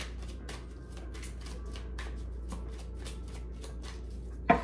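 Tarot cards are shuffled in a run of quick, crisp riffles and flicks, close and fairly quiet, ending in a slightly louder tap.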